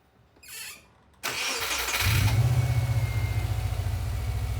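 A 2000 Subaru Impreza 2.5 RS with an EJ25 flat-four engine cranks briefly after a click and catches, then settles into a steady, close, throbbing idle with a low pulsing rhythm.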